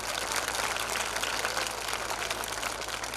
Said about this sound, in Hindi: मैं ये चाहता हूँ कि इस विद्यालय की शिक्षिकाओं के लिए एक बार तालियां बजा दी जाए।